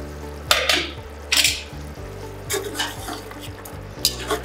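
A pot of lentil and meat curry is uncovered and stirred, giving sharp clanks of a spoon or lid against the metal and a low simmering sizzle underneath, with brief scraping bursts spread across the moment.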